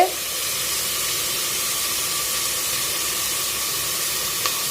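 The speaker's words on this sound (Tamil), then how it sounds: "போட்டு நல்லா பச்சை வாசம் போகிற அளவுக்கு நல்லா வதக்கி விடுங்க." Ginger garlic paste frying in a pan for a vegetable biryani gives off a steady, loud hiss of sizzling that runs unbroken throughout, with no voices.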